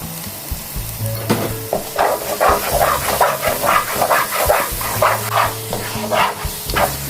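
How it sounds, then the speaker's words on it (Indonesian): Rendang spice paste with candlenuts sautéing in a pan: steady close sizzling and frying with rhythmic stirring scrapes, plus a few short dog barks in the background. "Nih saya masukin ini belakangan, nggak apa-apa, karena ini juga masih dalam proses menumis."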